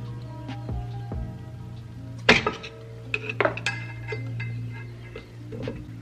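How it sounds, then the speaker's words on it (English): A screwdriver prying back a brake pad in the caliper of a Nissan 350Z during a rear brake upgrade, heard as a few sharp metallic clinks and scrapes over a steady low hum, near and moderate, with no talk. "I'm actually gonna stick a screwdriver in there and just kind of pry back on our brake pad to push that piston in"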